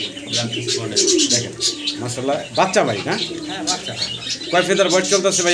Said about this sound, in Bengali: দর্শক দেখতেই পারতেছেন বাইরে এখানে পাখি আছে, অনেক পাখি ডাকাডাকি করতেছে।